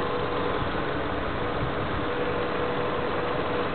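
A 1992–95 Honda Civic EG hatchback engine idles with a steady, even rumble and no change in pace, heard close up with no voices.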